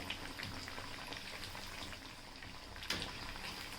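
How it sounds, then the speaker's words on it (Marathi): Sabudana vadas fry in hot oil with a soft, steady bubbling sizzle, low in level and continuous, broken once by a brief sharper crackle. "आता एका टायमाला तीन वडे सोडून घेतलेले आहेत आणि हे वडे सुद्धा आपण आता अल्टीपल्टी करून घेऊयात"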